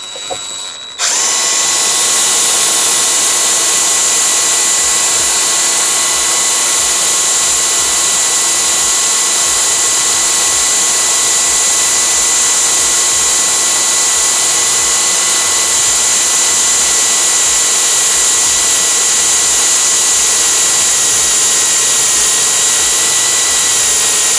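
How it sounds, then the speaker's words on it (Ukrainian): A Vitals Master ARa 1618-2P SmartLine cordless rotary hammer runs a 10 mm bit into 5 mm steel in first gear, giving a steady, loud, high whine that starts abruptly and holds without a break. "зараз спробуємо просверлити сталь заявлених 10 мм, сверлом 10 мм"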